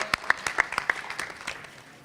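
A brief burst of applause from a small group at a One Piece panel at Anime Expo 2017, sharp claps that thin out and fade over a couple of seconds.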